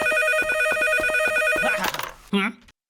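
A cartoon telephone rings loudly in fast repeated trills, then stops abruptly as a voice speaks briefly.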